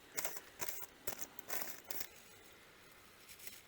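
Paper coffee filters being folded in half for combustible paper cartridges, giving several quiet crinkling, rustling bursts over the first two seconds, then near-silence with one faint rustle at the end.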